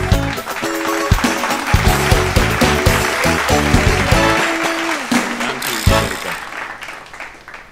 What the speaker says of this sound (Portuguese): nós recebemos um forte aplauso